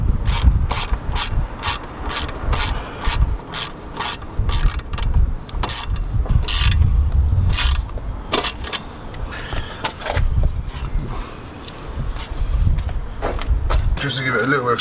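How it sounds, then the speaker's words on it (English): A ratcheting screwdriver clicks in rapid repeated bursts while tightening a Ramair induction kit on a Mk3 Audi TTS, close up, with pauses and some rustling between bursts. "we get a screwdriver in there"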